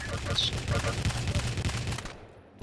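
Rapid machine gun fire bursts in a competitive video game match, sharp repeated shots packed closely together, with commentators talking over the gunfire before it cuts off.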